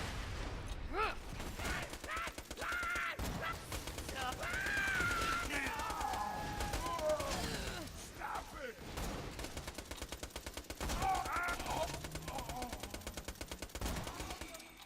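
Rapid automatic gunfire from the Borderlands 2 shooter in co-op play, dense bursts of shots running almost continuously and fairly loud, with game voices and effects over the top.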